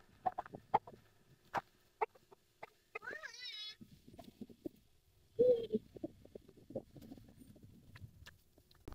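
Village chickens clucking in short, scattered calls amid quiet rural surroundings, with a brief squawk partway through and people talking at moderate distance.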